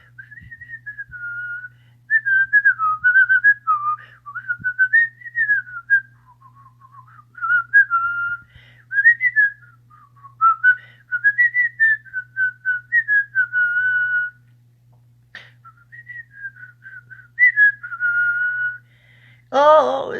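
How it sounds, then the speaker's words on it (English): A man whistles a melody while lying down, a steady run of wavering, breathy phrases broken by short pauses, fairly close and loud over a faint low hum. "it's hard to whistle when you're lying down"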